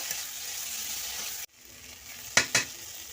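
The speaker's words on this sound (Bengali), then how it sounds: "আগে থেকে সিদ্ধ করে রাখা আলু আমি ছোটো ছোটো করে কেটে নিয়েছি ওর মধ্যে দিয়ে দেবো ভালো করে কষিয়ে নেব" Pre-boiled potatoes, cut into small pieces, sautéing in oil and spice paste make a steady sizzle in the pan, followed by a sudden break and two sharp stirring scrapes near the end.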